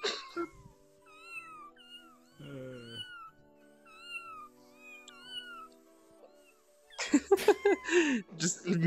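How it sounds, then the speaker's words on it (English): A cat avatar in VRChat lets out a string of short, high, chirpy meows when petted, repeated several times over a quiet background, before people start talking loudly at the end. "Just meowing as you get hit pets now."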